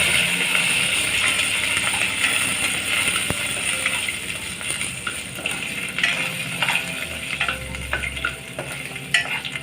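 Chopped garlic and curry leaves roasting in a pan for a Malvani semi-ripe mango raita, giving a steady close sizzle with ongoing stirring and scraping clicks throughout.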